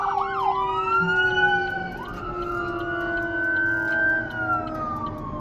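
A fire truck siren wails loudly nearby on a US highway, its rising and falling tones sweeping as the truck passes, with traffic rumble underneath.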